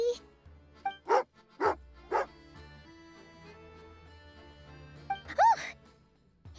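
A dog in the video game Genshin Impact barks several times in short, sharp yips over soft game music, then whines once more a few seconds later.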